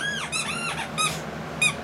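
A dog's squeaky toy is squeezed over and over, giving a series of close, sharp, high-pitched squeaks with short pauses between them.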